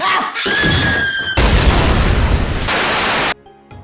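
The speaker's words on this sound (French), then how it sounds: "Pour vraiment pas qu'on oublie de péter les caisses quand on en voit." Crates smash in the Mario & Luigi video game with loud, dense crunching bursts, several back-to-back breaks forming a continuous noisy roar before cutting off abruptly.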